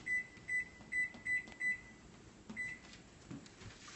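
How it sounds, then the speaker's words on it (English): A kitchen cooking timer being set gives five quick, evenly spaced beeps and then one more after a pause, quiet over a low room hum. "I'm going to set my timer before I forget."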